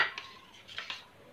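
A spoon stirs a strawberry drink with sabja seeds in a glass, giving a few light clinks and scrapes against the glass, fairly faint and alone.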